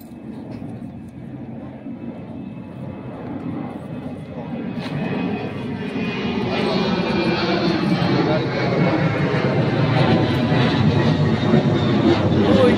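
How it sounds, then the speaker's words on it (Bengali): An airplane flying overhead, a broad engine roar that swells steadily louder and stays strong toward the end, with faint background voices underneath. "ওই যে প্লেন গেল উপরে।"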